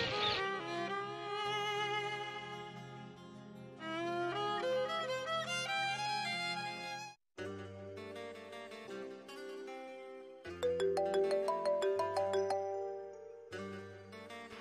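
A mobile phone rings for an incoming call with a bright electronic melodic ringtone, repeating its tinkling phrase twice with a short gap between rounds.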